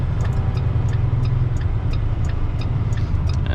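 Steady low diesel drone of a truck with a 10-speed manual gearbox, holding a constant loud rumble with faint ticking clatter above, with no distinct rev swell.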